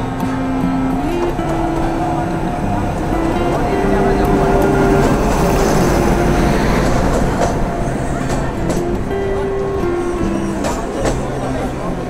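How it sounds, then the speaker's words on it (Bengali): A train pulls into a station on a college trip to Shantiniketan, its loud steady rumble carrying drawn-out horn-like tones that shift pitch, with voices of people audible beneath the noise. "সময় মতো ট্রেন স্টেশনে এসে পৌঁছলো।"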